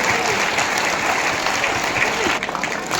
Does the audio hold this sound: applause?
yes